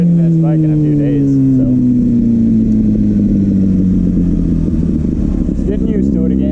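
Kawasaki ZX6R motorcycle engine holding a steady loud drone with slowly falling pitch while riding, wind rush layered over it, with a rider talking over the engine throughout.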